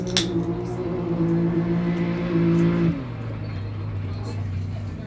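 A turbo UTV race vehicle passes through the base camp of a high desert desert race in Powell, Wyoming. Its engine drones and revs steadily, then drops in pitch as it goes by, heard at moderate distance.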